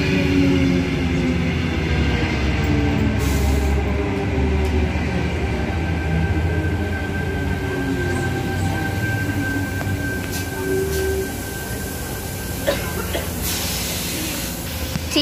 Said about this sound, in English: T53 and his friend departing platform 1